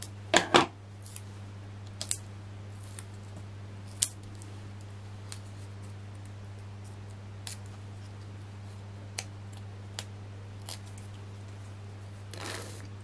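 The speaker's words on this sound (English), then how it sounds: "cut this pad in half" Scissors cut a craft pad in half, a few sharp snips and scattered short clicks spread over a quiet room with a low steady hum underneath.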